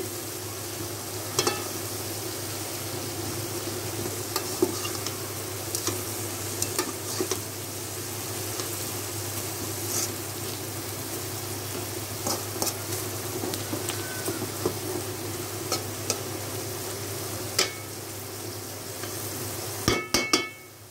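Mola fish frying with aubergine in a pan gives a loud, continuous close sizzle and crackle, with intermittent sharp scrapes and taps of a spatula stirring, and a cluster of knocks at the very end.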